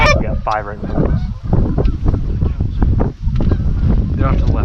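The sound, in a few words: geese honking near the hunters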